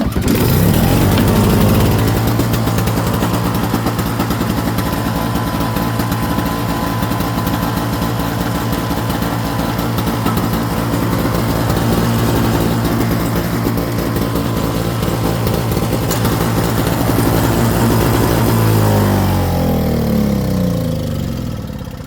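A Michigan snowblower's small engine roars loudly right from the start and runs at a steady, buzzing high idle for about twenty seconds before the revs drop and it winds down near the end.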